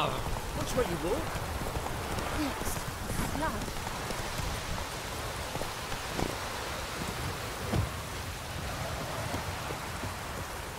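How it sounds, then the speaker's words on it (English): Steady rain pours in The Witcher 3: Wild Hunt around White Orchard, a dense continuous hiss of drops falling on the ground that holds at an even level for the whole stretch, with faint occasional knocks beneath it. "Let it rain."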